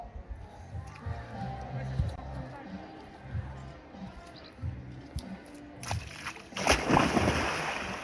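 Someone diving into an outdoor swimming pool in Sicily, with a loud splash and slosh of water near the end after a stretch of ambient sound and background voices.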